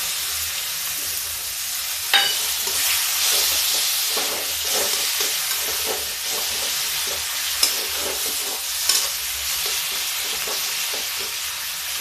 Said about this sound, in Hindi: तो अब इसको हम भूनते हैं।